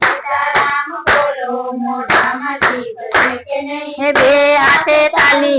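Rhythmic, loud hand clapping at a devotional satsang, sharp claps in a steady beat keeping time under a sung bhajan.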